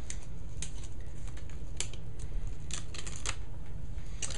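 Adhesive backing being peeled off Talon granulate-texture grip tape for a Glock 23, heard as a series of crisp crackling snaps and ticks over a steady background hiss, close and fairly quiet.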